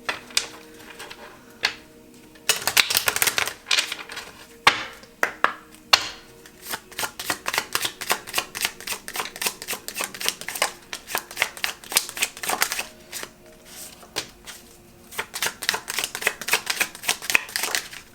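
A deck of healing cards for a reading is shuffled close by in quick, crisp riffling bursts that repeat with short pauses over a quiet background.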